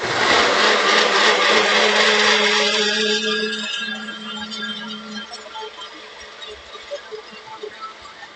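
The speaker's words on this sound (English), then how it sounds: "We're going to blend it." A blender blending vegan French toast batter of soft tofu whirs loudly and steadily at close range, then slows and winds down into a lower, rougher hum.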